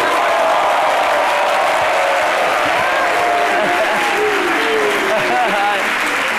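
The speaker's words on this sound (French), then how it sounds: "demander à tous les hommes et les jeunes hommes de ce studio de s'applaudir très très fort" Strong, sustained applause from a TV studio audience on a French-language midday talk show, dense and loud throughout, with faint voices and a few tonal sounds running under the clapping.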